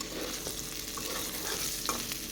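Food frying in hot oil in a home kitchen as it is stirred, a steady close sizzle with occasional scraping and clinks from the utensil, no talking.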